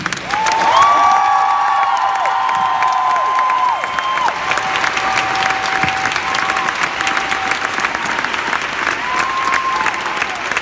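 Thunderous applause from a concert audience in Chicago rolls on for about ten seconds, dense clapping mixed with a few cheers and whoops, while tonal sounds ring through the crowd noise.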